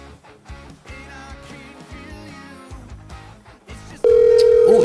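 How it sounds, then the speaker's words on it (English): Music plays quietly, then a loud, steady electronic ringing tone cuts in near the end as a call goes out through a studio soundstage phone system. "Oh, it's ringing."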